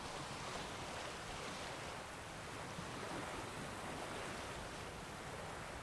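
Waves washing onto a beach in The Witcher 3 video game make a steady, even hiss of surf that stays soft and constant throughout, with no voices.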